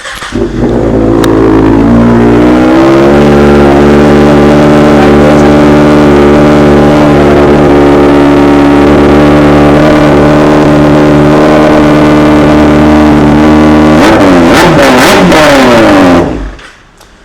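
A Kawasaki superbike with an Arrow aftermarket exhaust revs hard and loud, climbing and holding a raspy high-pitched roar, then dropping off through a crackling exhaust before cutting out.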